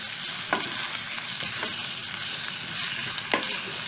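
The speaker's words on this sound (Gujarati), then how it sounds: "સુરણને પણ આપણે મિક્સ કરી લઈશું। ગેસની ફ્લેમ મેં ધીમી રાખેલી છે। આપણું સુરણ સરસ તેલમાં મિક્સ થઈ ગયું છે।" Grated suran, elephant foot yam, stirred into hot oil in a pan over a low gas flame, giving a steady close sizzle with a few sharp scrapes of the spoon and no voices.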